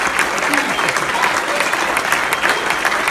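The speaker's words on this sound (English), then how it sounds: "Big round of applause for Jesse Martinez" Audience applause for skateboarder Jesse Martinez at a Q&A with another skater, steady dense clapping throughout, close and loud, with a voice briefly speaking over it.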